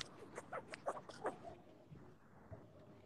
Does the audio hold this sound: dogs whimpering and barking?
yes